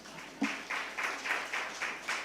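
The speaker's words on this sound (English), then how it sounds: "Another round of applause." A small audience at a library open-week launch and book celebration gives a brief, light round of applause, soft and somewhat distant, with clapping in loose rhythmic bursts.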